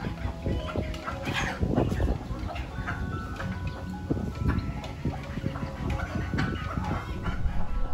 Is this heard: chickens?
yes